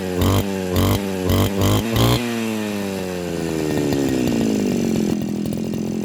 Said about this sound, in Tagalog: 2-stroke Hoyoma CG411 pala ang brand ng ating ginamit na grass cutter.